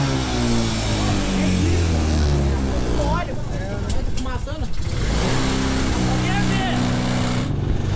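A mini truck's engine runs steadily and loudly in the foreground, its low harmonic drone holding throughout with slight changes in pitch, while people talk over it.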